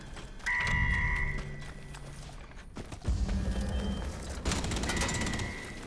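Turret gunfire in the video game Atomfall, a run of sharp game shots and rattling bursts mixed with tonal effects and a loud burst near the end, with no talk.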